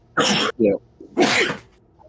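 Two loud sneezes about a second apart, each a sharp burst, with a short spoken word slipped in between them.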